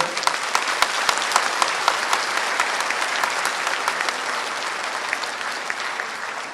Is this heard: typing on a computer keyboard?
no